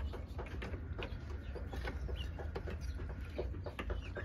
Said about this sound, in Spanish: acá tenemos gallinitas y gallos de raza francés